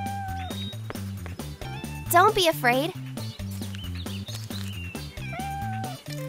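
In a cartoon, a cat stuck in a tree gives a short wavering meow in the middle, over steady background music and a voice speaking.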